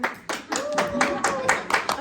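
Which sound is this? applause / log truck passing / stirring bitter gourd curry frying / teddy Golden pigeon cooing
applause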